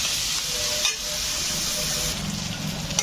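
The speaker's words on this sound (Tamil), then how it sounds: "இது நல்லா வதங்கட்டும்" Something sautés in a hot kadai with a steady, dense sizzle throughout, broken by a brief stirring scrape near the start and a slightly louder surge toward the end.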